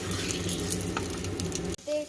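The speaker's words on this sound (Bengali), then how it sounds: "ঘিটা গরম হয়ে গেছে, এতে আমি একটু তেজপাতা, এলাচ আর দারচিনি ফোড়ন দিয়ে নেব।" Bay leaf, cardamom and cinnamon tempering in hot ghee for matar pulao give a steady, close crackling sizzle that stops abruptly near the end, followed by a brief faint tone.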